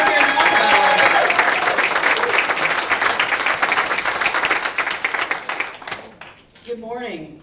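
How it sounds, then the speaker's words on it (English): Sustained audience applause fills a church service hall, loud and dense clapping that gradually thins and tapers off near the end, where a voice begins speaking. "Give her a round of applause to be brave to come here and talk about all this."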